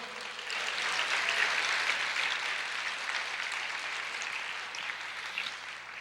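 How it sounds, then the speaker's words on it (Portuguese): A church congregation applauds the Lord during a sermon, a broad wash of clapping that swells quickly, holds steady and then slowly thins toward the end, heard from within the room. "Pode aplaudir o Senhor?"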